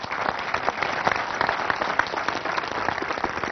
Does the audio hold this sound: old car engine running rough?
no